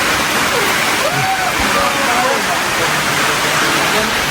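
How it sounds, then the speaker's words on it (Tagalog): Heavy rain on a mountain pours down in a dense, steady hiss with splashing water throughout, loud and close. "Grabe yung ulan, oy."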